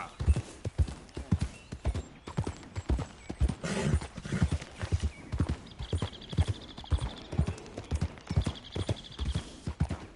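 Steady clip-clop of horse hooves at a walking rhythm in Red Dead Redemption 2 on PS4, close and clear, with a few brief game-like chimes and snorts mixed in.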